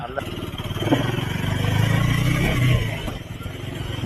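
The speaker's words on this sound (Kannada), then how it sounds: "ಬೈಕ್ ಮಾತ್ರ ಕ್ರೇಜಿ ನುಗ್ಗುತ್ತೆ" Close motorcycle engine rumbling and revving while off-roading on a forest trek route, rising in the middle, with a person talking over it.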